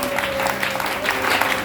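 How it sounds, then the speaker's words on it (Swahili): A church congregation claps together in a steady wash of applause, with a voice faintly present beneath it and a low sustained tone running throughout. "Pigia Yesu makofi bana"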